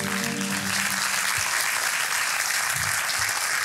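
An audience applauds at a short film competition award night in Sultanbeyli, dense steady clapping filling the hall, with a few low thumps and a faint trailing tone at the start.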